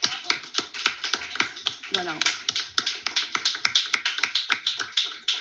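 An audience at a talk on literature and hybrid media applauds on request for an opening sequence, dense close clapping with rhythmic peaks, and a voice briefly speaks over it.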